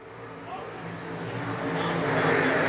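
Stock cars racing at Shelby County Speedway, a rising roar of engines building steadily as the pack comes out of turn four toward the green flag, loud and continuous with no talk.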